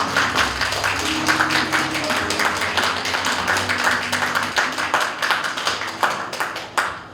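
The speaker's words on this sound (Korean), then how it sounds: "큰 박수 부탁드립니다." An audience at a poetry recitation contest applauds as a judge is introduced, giving a dense, steady burst of many hands clapping that fades near the end.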